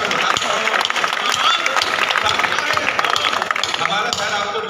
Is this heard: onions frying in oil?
no